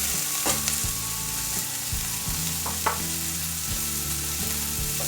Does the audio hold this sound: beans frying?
yes